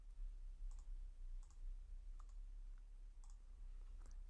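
Faint, sparse computer mouse and keyboard clicks come in small clusters over a low steady hum while code is copied and pasted.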